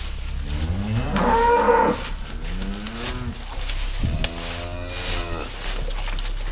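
Cattle on a farm moo close by, with a long, loud low call followed by a couple of shorter, softer moos over steady barn background noise.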